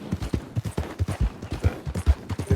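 A horse gallops in the video game Red Dead Redemption, its hooves beating a fast, even rhythm, close and loud and continuous throughout.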